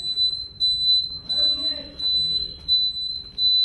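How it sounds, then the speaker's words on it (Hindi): The indicator buzzer on a new 2023 TVS Apache RTR 160 2V motorcycle beeps in a steady, shrill pulsing pattern of repeated on-off tones, close and loud, with a faint voice underneath. "बजर यहाँ पे अपना जो है वो काम कर रहा है"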